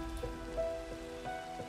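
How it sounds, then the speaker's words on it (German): Rain in the Minecraft video game patters steadily under a faint sustained tonal hum, with a few soft, brief drip-like accents over under two seconds. "Jetzt regnet es auch noch."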